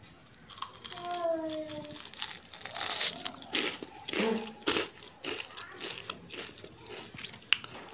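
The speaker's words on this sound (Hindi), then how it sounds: "कुरमुर की आवाज़ आई आप लोगों को" A crisp crunchy bite of homemade jaggery jalebi followed by chewing and crackly munching close to the mic, with a few soft voice sounds.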